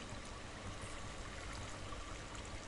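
Steady, faint wash of flowing water in Minecraft, an even stream-like hiss running unbroken with no voices over it.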